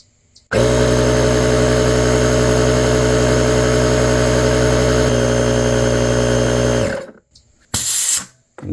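Lokithor AW401 tire inflator running on a front tire: a loud, steady motor-driven compressor drone with a strong buzzing hum, holding for about six seconds before shutting off, followed by a brief burst of hiss.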